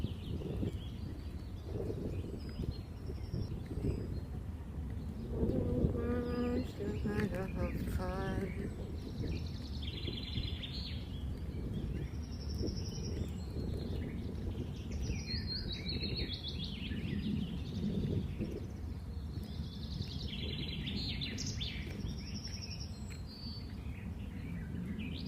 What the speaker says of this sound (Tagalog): Can you hear the mga ibon, the birds?